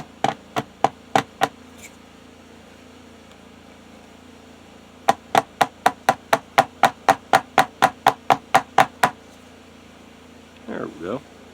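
A little hammer tapping in sharp, evenly spaced strikes, a short run of about six, a pause, then a longer quick series of around fifteen, fairly close and crisp, followed by brief faint rustling.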